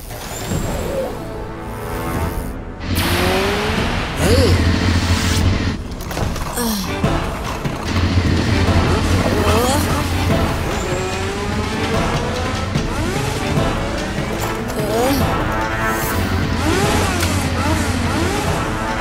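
A speeding race car from an animated Bangla cartoon roars with whining, rising engine sweeps and skidding tones over dramatic music, with character voices breaking in now and then.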